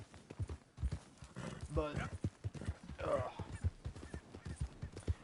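Horse hooves clip-clopping in a steady rhythm with a brief whinny, from the Red Dead Redemption 2 video game, heard beneath continuous talking.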